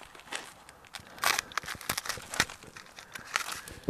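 Plastic packets of fishing groundbait crinkle and rustle close by in short irregular bursts as they are handled, with no talking.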